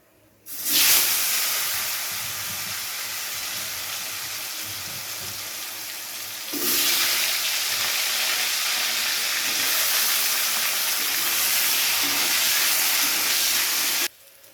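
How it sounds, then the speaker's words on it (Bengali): Sliced potato frying in hot oil for a Bengali rui fish kalia, a loud steady broadband hiss that starts abruptly, surges again midway and stops suddenly, with no talking. "এই তেলের মধ্যেই একটা আলু আমি লম্বা করে কেটে নিয়েছি, ওটা ভেজে নেব।"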